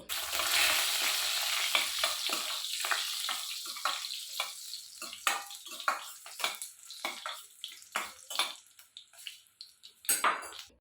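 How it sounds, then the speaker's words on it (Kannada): Mustard seeds, cumin and eight to ten dry chillies crackling in hot oil: a loud, busy sizzle at first that thins into sharp, scattered pops and spits, close up, with no talking. "ಸಾಸಿವೆ ಜೀರಿಗೆ ಎಲ್ಲ ಚಟಪಟ ಅಂತ ಸಿಡಿಯೋದಕ್ಕೆ ಸ್ಟಾರ್ಟ್ ಆದಮೇಲೆ"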